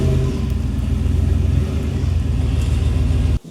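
Chevrolet Silverado pickup truck backing into a garage, its engine a loud, steady low rumble close by that cuts off sharply near the end.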